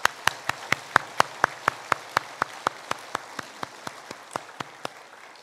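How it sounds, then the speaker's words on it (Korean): Church congregation at a Sunday service applauding young people: a slow, evenly spaced run of about twenty single sharp claps, moderately quiet and alone, fading slightly toward the end. "우리 사랑하는 청년들을 위해서 힘찬 응원의 박수하겠습니다."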